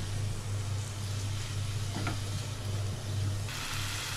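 Tomatoes sizzle in a pan while cooking for a Parsi akuri egg dish, a steady, dense frying hiss over a constant low hum, with a brief clink partway through and no talking.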